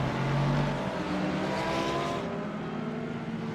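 A Ferrari race car engine roars during a sports car race, a loud sustained drone with shifting pitch and a brief tone near the start, continuing without speech.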